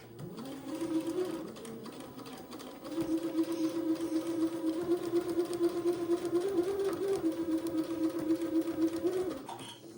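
A sewing machine stitches a curved seam on an Eton suit in two steady whirring runs, a short one and then a longer sustained one after a brief pause, close and fairly loud with no talk.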